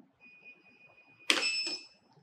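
A Matter Aera 5000+ geared electric motorcycle holds a steady, clear electronic beep for about a second. Its charging port then opens with a sharp mechanical clunk and a brief rattle, all close by with no talking.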